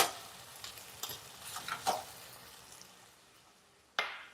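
Minced garlic sizzles faintly in a hot pan while being stirred, with a few soft crackling bursts early on, then fading, and a sharper hiss near the end.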